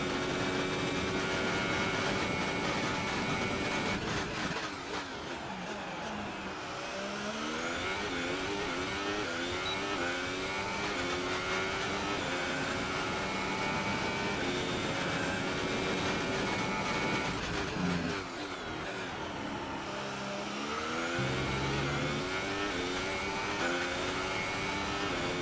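A Formula 1 car screams out of the first corner in F1 2018 at the Austrian circuit, its engine whine sweeping up and down through gear changes as it accelerates for a long, continuous stretch.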